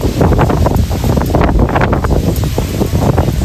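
Strong typhoon wind roars and buffets the microphone in continuous loud gusts, with rustling trees in the background.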